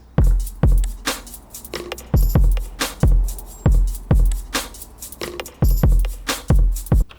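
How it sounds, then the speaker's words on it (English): An MPC drum beat thumps along in a steady loop of heavy kicks and sharp snares with ticking hi-hats and extra percussion, loud, close and punchy, with no voices. "This is my hi-hats, some percussion, kicks and snares. All together it sounds like this."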